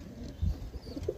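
A young Andhra pigeon from a champion line gives brief low coos, a couple of soft close calls over a quiet room.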